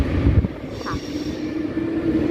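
A train at a station in Paris, near and fairly loud, with low rumbling and thumps at the start, then a steady metallic hum and a faint squeal from the wheels as it moves.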